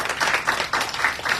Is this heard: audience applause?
yes